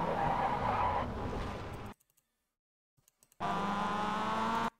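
A Mazda MX-5 in iRacing at Tsukuba: loud skidding and tire noise cut off into near silence with a few faint ticks, then the engine returns as a steady, loud rising drone.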